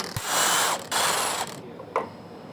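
A ratchet working on the 13mm bolts holding the oil pump of a 5.3L L83 V8 engine during teardown: broad sustained mechanical rasping bursts with brief pauses, a short click near the end, fairly close and alone.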